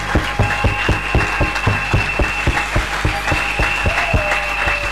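A church congregation at an evangelistic crusade claps in a fast, steady, rhythmic beat, loud and close, with a faint tone lingering underneath.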